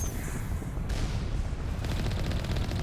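Turret gunfire in Mass Effect 1, a dense, continuous rattle of shots with heavy booming low end, loud and close throughout, with no voices over it.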